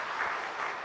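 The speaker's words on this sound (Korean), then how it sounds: "우리 박수로 한번 격려해 주겠습니다" Church congregation applauds the Zion choir after a Sunday service hymn, a brief, even wash of clapping that sounds soft and somewhat distant.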